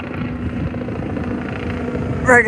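A steady low, heavy-sounding mechanical drone with a rhythmic thumping as a helicopter passes over Broadview, continuing throughout at moderate loudness.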